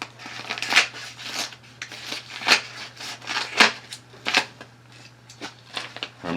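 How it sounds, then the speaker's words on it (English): Scissors snipping through a piece of insulation in a series of close, crisp, irregular cuts, with a low steady hum beneath. "I just take the insulation and cut it with scissors like so."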